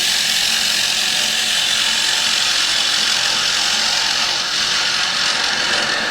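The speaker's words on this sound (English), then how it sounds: "I'm going up to 1300 now. The faster this lathe or the faster the timber is travelling, the better the cut." A wood lathe runs at 1300 rpm as a gouge cuts a spinning timber bowl, giving a steady, loud, even whir with hissing cutting noise throughout and no talk.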